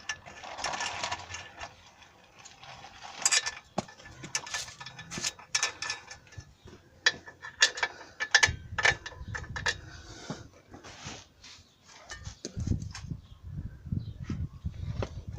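A ratchet clicks and turns while control arm bolts go back into a 2005 Toyota Highlander, giving quiet, irregular mechanical ticking, metallic clinks and short ratcheting runs close by in a garage with no talking.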